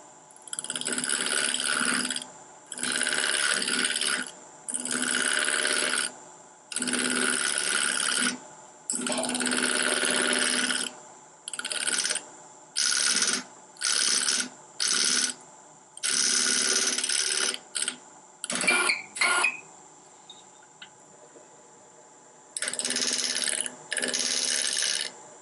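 A chisel slicing into corner fibers of a wood piece spinning on a lathe during a woodturning demo, heard as repeated bursts of loud scraping and hissing cuts separated by short quiet gaps.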